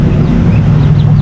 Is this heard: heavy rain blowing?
no